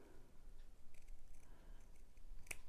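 Scissors trimming paper eyebrows for a coffee filter ghost craft, a few faint quiet snips close by, ending in one sharper cut, with no talking.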